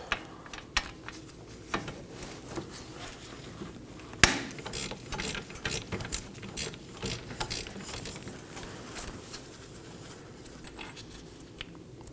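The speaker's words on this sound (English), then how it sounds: "Now I'm going to break loose my third bolt." A wrench breaks loose a bolt on a 2018-2024 Chevrolet Equinox 1.5L front CV axle: sharp metallic clicks and ratcheting taps, one loud crack near the middle, close and otherwise quiet.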